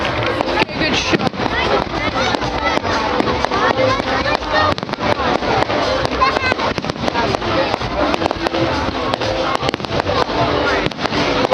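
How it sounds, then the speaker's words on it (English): Fireworks going off at a bonfire night display, a dense run of sharp bangs and crackles throughout, loud and close, with crowd noise and voices mixed in. "What do you think of the fireworks this evening?"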